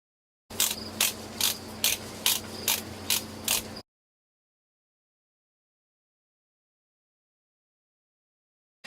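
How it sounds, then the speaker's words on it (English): A torque wrench ratchets down valve cover bolts on a Honda: about ten sharp, evenly spaced clicks in a quick rhythm, close and clear over faint mechanical background. Silence follows. "I just torqued down all the bolts"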